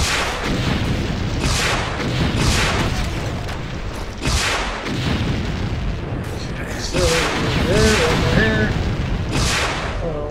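Rocket launcher blasts in the video game Brutal Doom, repeated booming explosions and gunfire bursts amid game effects, loud and close, with someone talking over them.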